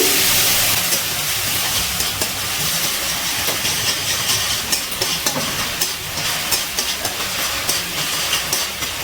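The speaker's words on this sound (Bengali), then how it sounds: "আদা আর কাঁচা লঙ্কা বাটা তেলে একটু নাড়াচাড়া করে নিচ্ছি" Ginger and green chilli paste sizzles in hot oil with a loud, continuous broadband hiss, while a spoon stirs through it with a steady run of soft clicks and scrapes.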